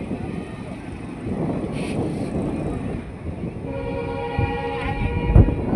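A high-speed trial train passes Beed railway station, a broad rumbling rush of wheels and carriages with a faint horn-like tone rising near the end, heard amid crowd noise at the platform.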